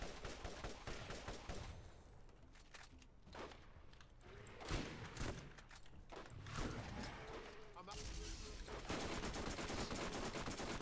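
Gunfire in the video game Borderlands, a quiet, repeated stream of shots running through the whole stretch, sometimes in rapid bursts, with a player talking at times.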